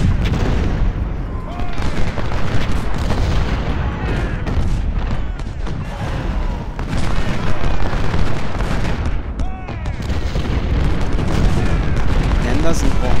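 Cannon and artillery fire in the Civil War strategy game Ultimate General: Civil War, at the Malvern Hill battle: a dense, continuous barrage of booms and rumbling blasts, loud and overlapping throughout.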